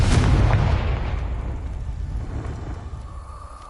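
A Confringo blasting spell explodes in the Hogwarts Legacy video game, a loud booming blast right at the start whose low rumble slowly fades over several seconds.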